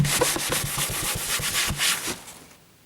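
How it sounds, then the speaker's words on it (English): A cloth wipes a surface clean with isopropyl alcohol during a USB charger build, making quick rhythmic rubbing strokes up close that fade out at the end. "I'm going to clean it off with IPA, the surface, before I do stick this down,"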